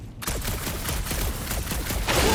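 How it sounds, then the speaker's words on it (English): Rapid gunfire from the sci-fi action game Guardians of the Galaxy, a dense stuttering burst of shots that runs steadily for about two seconds and swells louder at the end, with no talk over it. "Just making sure my guns work."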